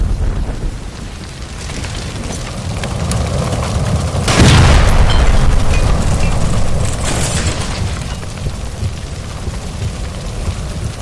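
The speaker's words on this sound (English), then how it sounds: "Shoot the gas line, Cole, we're out of here!" Gas line explosion in the video game L.A. Noire, a loud deep boom bursting in mid-clip and rolling into a sustained roaring rumble, with crackling debris-like noise after it and no talk.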